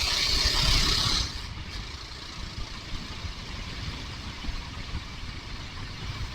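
A Kawasaki KLR motorcycle engine running on a hot, humid day, a steady low rumble that is loud at first and then drops to a quieter, even drone.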